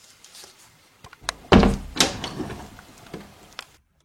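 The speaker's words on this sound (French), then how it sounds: "Je viens de fermer la porte, comme ça on est tranquille." A door is shut in an animated cartoon: a shuffle and handle rattle, then a loud close thud followed by a second knock and fading rattles before silence.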